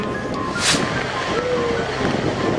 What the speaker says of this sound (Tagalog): Sa Dagupan, nakita namin ang bagsik ng tinatawag na storm surge.